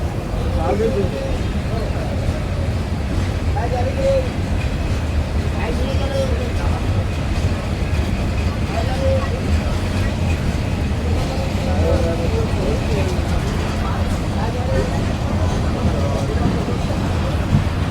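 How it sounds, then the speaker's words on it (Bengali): Mongla Commuter train pulling out of Mohammadnagar railway station at Zero Point in Khulna, a loud continuous low rumble of wheels and carriage with faint rhythmic rail thumps throughout, heard from on board. "খুলনায় জিরো পয়েন্টে অবস্থিত মোহাম্মদনগর রেলওয়ে স্টেশন থেকে ছেড়ে গেলাম"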